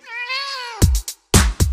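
A cat gives one long, clear meow up close, followed by several short broadband bursts of thumps or rustling.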